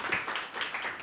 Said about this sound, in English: Give it another round of applause.